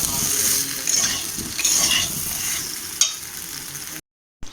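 Potatoes for a Bengali crab curry fry in oil in a pan, a steady close sizzle with stirring scrapes and a utensil clack near the end, then a brief cut to silence.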